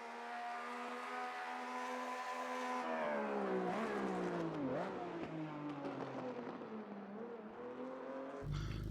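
A 1974 Porsche RSR 3.0 racer in Automobilista 2 revs hard through the gears, a loud, close engine howl rising and falling with gear changes, ending in a sudden burst of noise.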